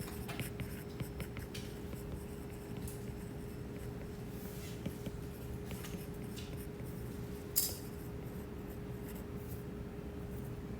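Marker or pen strokes on a board or paper during a calculus lesson give soft, intermittent scratching and tapping over a steady low room hum. There is a single sharper knock partway through and no speech.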